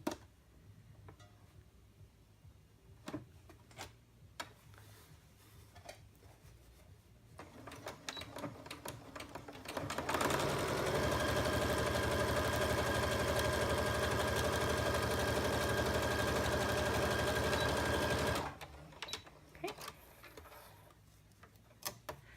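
A sewing machine on stitch 1 with a stitch length of 2 runs a 3/8-inch French seam in a steady, even whir lasting about eight seconds, with quieter handling clicks before and after.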